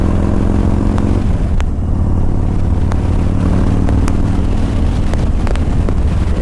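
Yamaha Raider muscle motorcycle riding, its engine giving a loud, steady deep rumble with shifting tone as speed changes, heavy wind buffeting the microphone and a few sharp clicks, with no voices.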